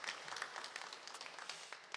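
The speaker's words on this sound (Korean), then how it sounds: "우리가 감사로 한번 우리 박수로 좀 인사를 드리도록 하겠습니다" Members of a Korean church congregation clap together during a Sunday worship service as a greeting of thanks, a faint, distant scattering of hand claps over a few seconds.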